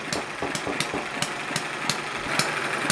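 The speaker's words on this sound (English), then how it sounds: "the engine will freewheel until the weights then move back into the centre of the flywheel" A Chinese-made hit and miss stationary engine runs and freewheels on its flywheel, giving steady, fairly loud mechanical clatter with sharp periodic firing bangs spaced irregularly about every third of a second, with no voices.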